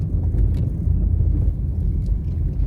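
A car drives along Queen Street through the town of Morant Bay, Jamaica, its engine and road noise forming a steady, close low rumble with no talking.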